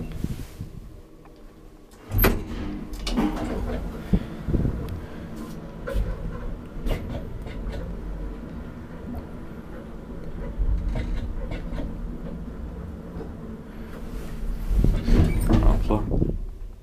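A 1962 Valmet-Schlieren elevator at work: doors bang and slide at the start and end, with a low steady motor hum and rattling through the ride, as someone talks over it.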